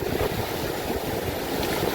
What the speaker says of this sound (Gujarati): પહોંચી ગયા છીએ અમે બીચે, એટલે કે દરિયાના કાંઠે પહોંચી ગયા છીએ એકદમ